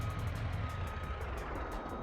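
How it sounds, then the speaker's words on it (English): A truck parking in the BeamNG.drive video game gives faint, steady reversing beeps in an even rhythm over a loud, low, constant engine rumble. "So we're going to just park the truck up."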